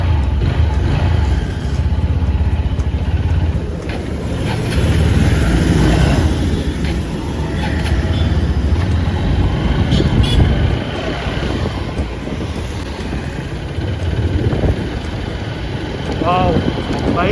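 Steady, loud wind roar buffets the microphone of a rider on a smooth motorcycle in Bengaluru, a constant low rumble of rushing air with engine hum beneath it and no clear pauses.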